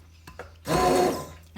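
An electric food processor pulses apple peels in a kitchen, a single short whirring burst of the motor and chopping blade lasting under a second after a quiet pause with faint clicks.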